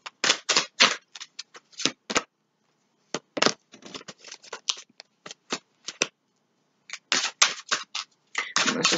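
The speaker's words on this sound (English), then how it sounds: "We got 9 cards, y'all. I'm still shuffling." Tarot cards are shuffled by hand in close, crisp bursts of riffling and flicking, separated by short silent pauses, with no voice over them.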